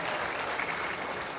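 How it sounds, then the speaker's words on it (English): An audience at a business awards grand finale applauds steadily, a dense wash of clapping that holds at an even level from start to finish with no voices on top. "A round of applause as well"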